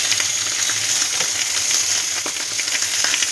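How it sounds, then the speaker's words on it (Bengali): Hilsa fish wrapped in leaf parcels sizzles and bubbles in a pan over raised gas heat, a steady close hiss of frying with faint crackles and pops throughout, no voices. "দেখুন গ্যাসটা যে বাড়িয়ে দিয়েছি, ফোটাও শুরু হয়েছে, টানাও শুরু হয়েছে।"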